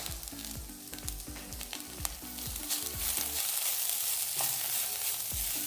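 Crab sukka masala, Kundapura style, fries in a pan with a steady close sizzle. Quick scraping stirs clink at the start before the frying settles into an even hiss.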